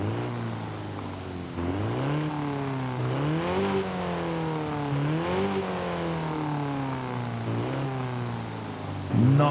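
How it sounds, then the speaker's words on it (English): A small four-cylinder Morris Minor 1000 engine in Forza Horizon 5 revs up and down repeatedly, its pitch rising and falling in steady waves, loud and close with no talk. "see what the 4-cylinder does sound like."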